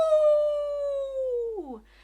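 A human voice imitates a wolf howl with one long sustained tone that drifts slowly downward, then breaks into a wavering drop at the end, close and clear with nothing else underneath.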